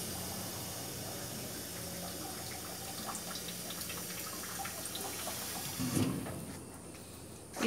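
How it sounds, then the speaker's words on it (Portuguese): Water drains steadily inside a Mototest Lav-900 parts washer, a continuous close rushing wash that eases off near the end with a brief mechanical bump. "ela vai dar um tempo para a água escorrer e tal, né, para poder abrir a tampa"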